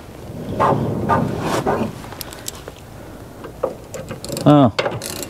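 A socket ratchet wrench turns on a fastener of an abandoned 1961 Ford Falcon, giving irregular clicking bursts close to the microphone. Some metallic clanks are mixed in, with a brief voiced grunt near the end.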